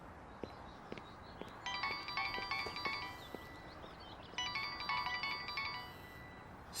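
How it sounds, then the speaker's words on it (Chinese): A phone ringtone for an incoming call plays in a quiet room, two bursts of a bright repeating electronic melody separated by a short pause, fairly close, with faint taps and footsteps around it. "宋小晶，她怎么会给我打电话？"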